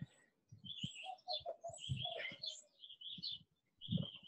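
Birds sing and chirp outdoors in a steady run of bright, overlapping calls, close and clear, with soft low thumps underneath.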